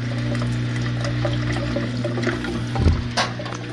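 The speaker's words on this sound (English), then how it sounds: "Okay, the drain pump works." A Samsung WF45N5300AW washing machine runs its drain pump, a steady close mechanical hum with water rushing and gurgling, briefly surging near the end.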